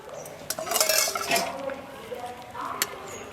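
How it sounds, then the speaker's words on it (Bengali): A spoon scrapes and clinks against a metal pot of vegetable khichdi, a cluster of clattering stirs early on, then quieter scrapes and one more clink, with a voice talking softly underneath. "এখন একটু নাড়া দিই"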